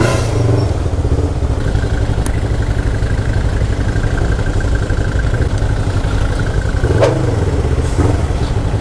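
A Yamaha MT-03 motorcycle engine runs steadily while riding in heavy traffic, a loud continuous mid-pitched drone with a faint clatter and a couple of brief clicks, no talk.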